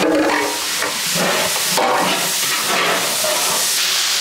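Sliced onions, shallots and green chilies sizzling in a hot pan for a Malabar beef dum biriyani, a loud steady hiss of frying close by, with no talking.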